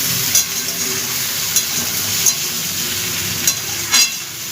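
Continuous loud sizzle of food frying in a pan, broken by a handful of sharp metallic clicks from stirring, with no talking.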